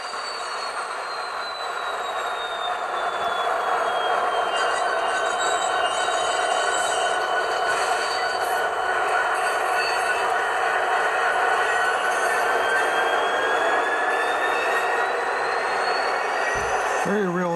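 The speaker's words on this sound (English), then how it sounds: "Very realistic dynamic brake whine there." Dynamic brake whine from an HO scale SD70ACe model locomotive with ESU LokSound, a high tone sliding slowly in pitch over a constant rail rumble and squeal, steady and close, ending with a brief thump.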